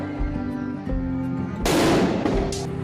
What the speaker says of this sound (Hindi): पापा ने हाथ से ही बम फोड़ दिया वहाँ पे